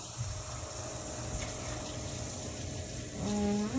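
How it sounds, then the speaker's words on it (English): Tap water running in a kitchen sink for a hand wash between handling raw chicken, a steady close gushing stream that swells louder near the end. "wash hands again."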